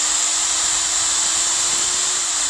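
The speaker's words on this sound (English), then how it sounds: "I'll give that a bit of a clean with that inside the electric drill" A steady, loud high-pitched whirring and hissing of an electric drill spinning a wire brush against metal, continuous without pauses.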